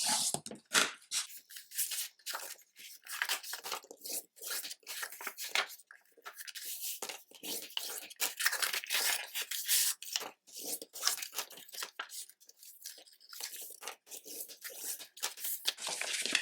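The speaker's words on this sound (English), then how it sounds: "So now we will fold all the scores and burnish them." Scored paper being folded and burnished into a small gift box, a steady run of dry rubbing, creasing and crackling strokes up close, busy and continuous with short pauses.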